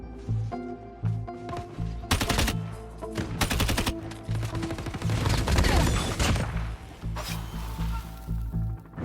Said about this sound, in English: first shoot a couple of bullets, then slide left or right and shoot again